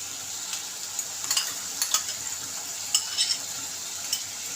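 Whisked sour yogurt fries into a spice paste, a steady high sizzle with scattered clinks and scrapes of a spoon stirring through it, close and fairly loud, no voices.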